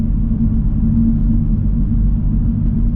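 BMW 1 Series on semi-slick tyres driving along a wet road, heard from inside the car as a steady, loud low rumble of engine and road noise without letup.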